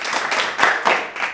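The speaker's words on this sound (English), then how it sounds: "Let's give another big round of applause for Charlotte." Audience at an oceanography Q&A session gives a short round of applause, a few distinct bursts of clapping that fade out quickly.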